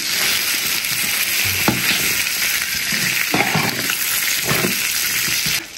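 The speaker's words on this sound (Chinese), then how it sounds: "来煎羊杂。" Lamb offal fries on a small iron griddle with a steady, close, spitting sizzle, punctuated by a few short bursts of scraping and turning.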